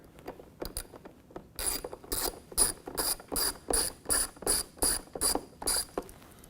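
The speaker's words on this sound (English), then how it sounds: "Go ahead and get the Torx off of there." A Torx driver ratchets as it backs screws out of an Electrolux dryer's fan housing, giving about a dozen evenly spaced bursts of sharp clicking, close up, with no talking.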